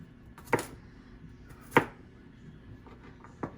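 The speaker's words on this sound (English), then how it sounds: "I'm going to go ahead and cut our garlic" A knife chopping garlic cloves on a cutting board, three separate sharp thuds spaced about a second apart over quiet room tone.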